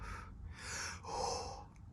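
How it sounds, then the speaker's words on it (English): A person breathes during a quiet ghost-hunting test: two soft, close breaths, each a drawn-out airy in-and-out rush, in an otherwise silent room. "that's me breathing"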